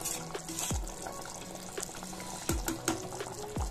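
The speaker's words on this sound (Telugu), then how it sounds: "ఇలా బాగా బాయిల్ అవ్వాలి." Chicken curry boiling in a pressure cooker, making a continuous bubbling, watery churn with occasional louder low pops and gurgles, heard close and alone with no speech.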